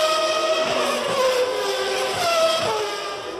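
Formula 1 cars from the 1993 Grand Prix roar past in a continuous high-pitched engine whine, pitch sliding up and down as cars accelerate and pass, loud and without talk.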